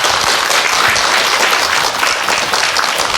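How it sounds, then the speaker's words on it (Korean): Steady, dense applause from a studio audience welcoming a guest on a Korean television talk show, loud and continuous without a break. "큰 박수로 맞아주십시오."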